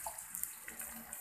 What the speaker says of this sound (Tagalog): Pwede na natin siyang lagyan ng konting water.